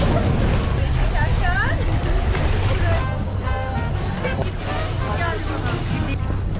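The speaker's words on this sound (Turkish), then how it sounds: "Fena bir rüzgar var akşamüstü." Strong evening wind at a boat pier, a steady low roar buffeting the microphone throughout, with boat sounds and voices talking and calling over it nearby.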